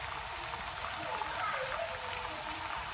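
Tempe chips frying in hot oil, a soft continuous crackling sizzle at low level with no break.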